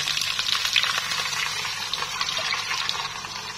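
Chicken pieces and garlic fry in a pan, a dense continuous sizzle and crackle, close and fairly loud, with faint stirring and no talking.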